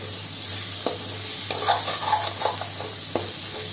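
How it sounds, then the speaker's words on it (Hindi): Okra and tomato sabzi stirred in a pan over low heat, soft spoon scrapes and light taps at irregular intervals above a steady faint sizzle and hum. "अब इसे एक बार हम चला लेंगे अच्छे से"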